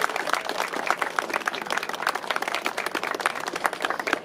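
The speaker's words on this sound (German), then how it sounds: "Und hören wir die lauten Menschen für die Initiative und für die Richter klatschen." A crowd claps for an initiative and the judges during the supporting programme at a harness racing track on race day, with a steady, fairly dense patter of hands that carries on evenly from start to finish.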